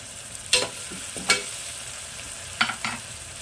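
Onions sizzle gently in a tempering in a pan while a spoon scrapes and stirs in four quick strokes, set against a quiet frying hiss.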